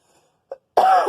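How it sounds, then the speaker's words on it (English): A single person's cough, close and abrupt, preceded by a faint short throat sound in an otherwise quiet room. "I am sorry for the cough"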